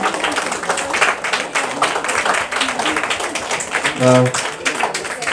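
Applause fills a hall at an award ceremony, a dense, continuous patter of many hands that stays loud and steady, with a brief voiced sound rising in the middle.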